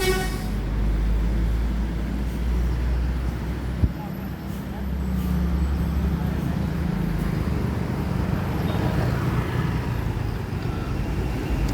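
The ALS Jet Bus on the Medan–Surabaya route rolls past a terminal with a continuous roadside engine roar and traffic noise, a short horn toot near the middle, and voices talking over it throughout.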